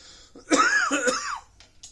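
A man still recovering from an asthma attack coughs and clears his throat in a single harsh, raspy burst lasting about a second, close and alone in a quiet space.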